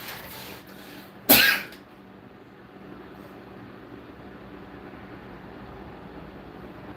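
A single abrupt sneeze bursts out loudly and briefly, then fades into a steady low background hum with no talking.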